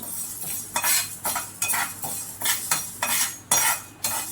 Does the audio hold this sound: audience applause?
no